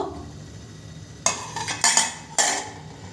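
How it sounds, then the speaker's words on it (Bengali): A metal lid lifted off a pot of simmering rice and lentil khichuri with winter vegetables, a few close clattering clanks and scrapes in quick succession after a quiet stretch. "এরপরে ঢাকনাটা আমি তুলে নেব"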